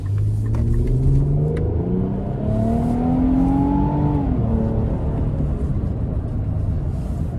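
A 2026 Nissan Armada NISMO in sport mode accelerates hard from the interior, the engine note climbing steadily through the revs before the transmission shifts and pitch drops, then rising again under a constant road rumble. No voices.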